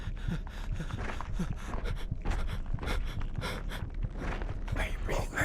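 A character in the horror game It Reaches breathes in loud, ragged pants and gasps. Footstep-like thuds run along with the breathing.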